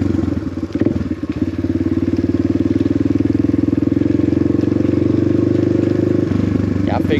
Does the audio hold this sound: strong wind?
no